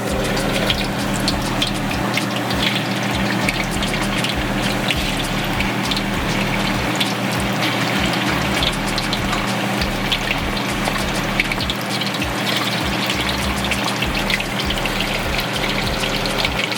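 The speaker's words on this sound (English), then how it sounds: "Alright, so we're gonna start frying our chicken." Chicken frying in hot oil, for chilli chicken, giving a steady, loud, dense sizzle and bubbling hiss that runs without break, with no talking.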